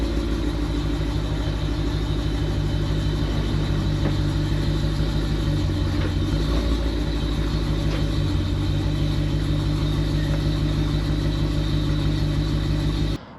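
Steady, loud engine rumble and road drone from a Ford F-550 truck towing a camper trailer down the road, continuous and close throughout with no talking.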